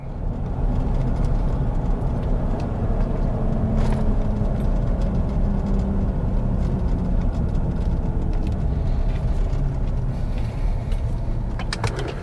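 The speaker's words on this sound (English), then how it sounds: "So we're going to drive this little stretch of road" A truck towing a trailer cruises down a stretch of road while the trailer brakes are being burnished, a loud, steady low rumble of engine and road noise with no talk.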